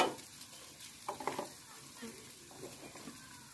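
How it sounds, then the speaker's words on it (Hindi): Onions and green chillies frying and being stirred in a pan, a soft continuous sizzle with a few louder scraping stir strokes near the start, moderately close and fairly quiet. "अच्छे तरीके ना इन्हें फ्राई कर लेने"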